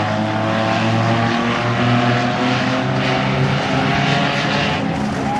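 Stock car racing at Langley Speedway, with a continuous loud engine roar from a car coming sideways out of turn four, its pitch holding steady without a pause.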